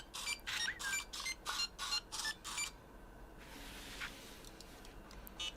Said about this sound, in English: It beeps, that's why I don't want it. It's too noisy. It auto-solves itself